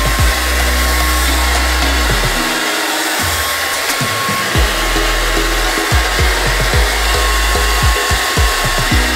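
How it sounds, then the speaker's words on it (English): A hair dryer blows steadily and loudly from close by, drying lace frontal adhesive at the hairline for a straight 13x4 lace frontal wig install, with a continuous whoosh and a low motor hum and no talk. "I'm then gonna go ahead and blow dry this."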